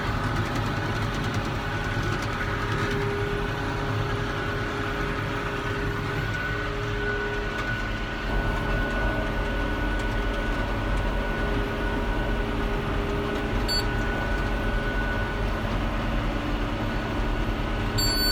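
A tractor working a hay field while the clutch is ridden makes a loud, continuous engine drone and rumble that holds steady for the whole stretch.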